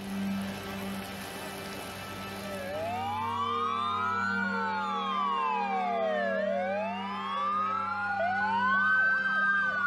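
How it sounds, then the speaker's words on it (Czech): Volunteer fire brigade fire engines from two countries arrive with several wailing sirens overlapping and sweeping up and down, growing louder over a steady engine hum. "Přijíždějí sem dobrovolní hasiči z obou zemí."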